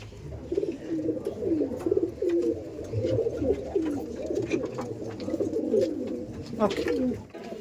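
Madrasi pigeons, including a male, coo steadily and close together at a sale, a dense overlapping murmur that runs the whole time with voices talking underneath.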